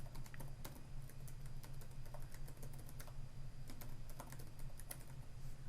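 Continuous rapid keystrokes on a computer keyboard as an email address is entered, close and steady for several seconds under a constant low background hum, with no talking.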